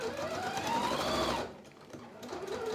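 A sewing machine runs continuously as it stitches fabric onto plastic, a steady close mechanical whir that rises in pitch, then slows and pauses briefly before starting up again.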